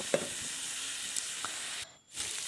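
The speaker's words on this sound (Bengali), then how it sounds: "দেখুন ভাজা করছিলাম ফুলকপি আলু ভাজা" Cauliflower and potatoes fry in a pan with a soft, steady sizzle and a few faint stirring taps, briefly dropping out before resuming.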